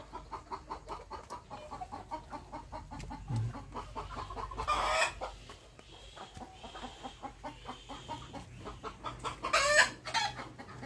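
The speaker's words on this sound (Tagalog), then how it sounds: "May nangitlog na manok pala doon yun." A hen that has just laid an egg clucks in quick repeated bursts nearby, with other chickens joining in and louder squawking flurries near the middle and end.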